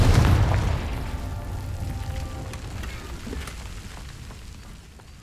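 Confringo fire spells exploding in Hogwarts Legacy, one loud boom at the start that decays into a rumbling, crackling tail. It fades slowly over several seconds, with no voices.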